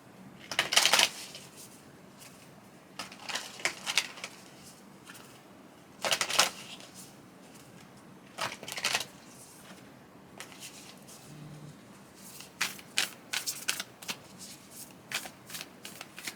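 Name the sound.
tarot cards being shuffled and pulled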